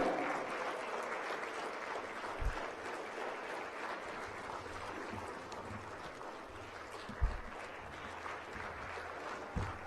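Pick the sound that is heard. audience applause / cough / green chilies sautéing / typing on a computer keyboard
audience applause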